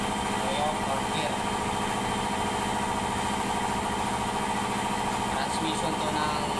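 An Isuzu Giga Max tractor-head truck transmission with a 6WF1 engine runs in fourth gear after overhaul, a steady close mechanical whir and hum with rhythmic gear chatter throughout, no pauses.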